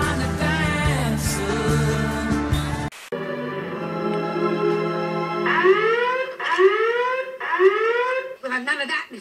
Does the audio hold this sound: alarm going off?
yes